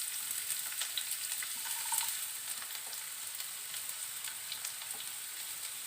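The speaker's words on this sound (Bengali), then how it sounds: "কড়াইতে তেল দিয়ে এরপরে দিয়ে দেব পেঁয়াজ কুচি" Chopped onions fry in oil in a wok, a soft steady sizzle with light crackling and faint stirring scrapes, fairly quiet and uninterrupted by speech.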